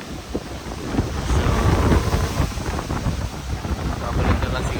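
Strong wind blows at the coast in Bohol, a loud buffeting rush across the microphone with gusts swelling and easing; a voice briefly speaks over it.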